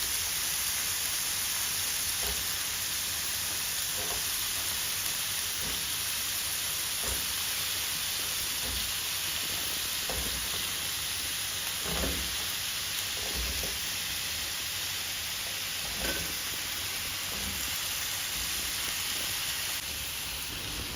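Potatoes frying in hot oil give a steady, quiet hiss and sizzle that runs throughout, with faint scattered pops and crackles rising from the pan now and then.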